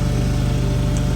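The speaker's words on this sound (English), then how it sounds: "you can see that we are out mowing greens this morning" A mower running on a golf course green early in the morning, a steady close engine drone with an even pulsing hum, uninterrupted and with no talk.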